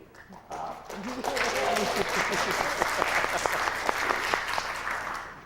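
Audience applause at an evening award ceremony swells in after a brief pause and a spoken line, then continues as a steady, full wash of clapping to the end.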